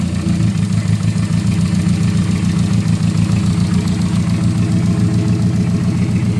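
Car engine with a Ford 4EFTE turbo four-cylinder idling steadily and smoothly, close up, a continuous loud low rumble with no talking.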